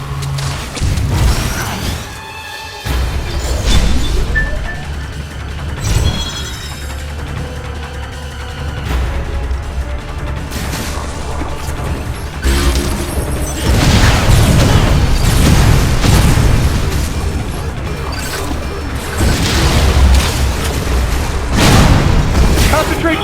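Missile explosions in the video game Metroid: Other M, heavy booms and blasts rolling over a continuous battle din, with voices shouting through the chaos.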